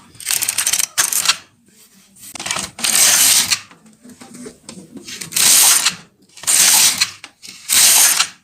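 An LK-150 knitting machine knits 1x1 rib, with about six rattling, ratcheting carriage passes. Each pass comes as a loud burst, separated by short quiet gaps.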